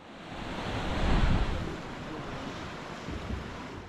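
Calm sea waves wash against a Korean coastal canyon trail, one soft surge swelling and then settling into a steady hiss of surf, with some wind buffeting the microphone.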